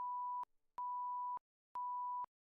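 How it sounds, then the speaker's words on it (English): Electronic beep tones, three long steady sustained beeps separated by short silences, clean and loud with nothing else audible. "That's my favorite, the beep."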